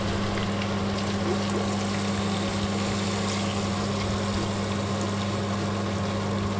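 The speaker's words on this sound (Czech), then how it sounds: "Zalijem to vodou." Water pours steadily into a cooking pot holding pumpkin pieces for pumpkin soup, a continuous rushing splash with a low hum beneath, moderately loud and close, with no talking.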